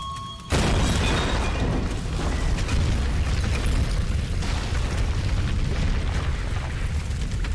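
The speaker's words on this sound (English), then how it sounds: "That debris from an explosion 5 feet away could have easily killed her" A loud explosion booms in Tomb Raider (2013), with an abrupt blast followed by a sustained roar of debris and rumble that continues at high level for several seconds, no voices over it.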